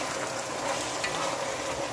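Meat sauce with spices sizzles steadily in a pan as it fries for lasagna, a constant crackling hiss at moderate distance with no talking.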